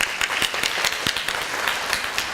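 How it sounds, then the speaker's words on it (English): A school audience applauds South Lawrence East School at an evening community event, a dense, steady round of many hands clapping close by, sustained without break and with no talking over it. "Can I have a round of applause?"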